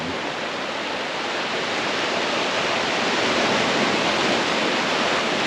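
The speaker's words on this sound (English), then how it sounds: "listened to this waves crashing over the rocks on the beach" Waves crash over rocks on a rocky Queensland beach, heard as a loud, continuous surf roar that swells slightly without distinct breaks or voices.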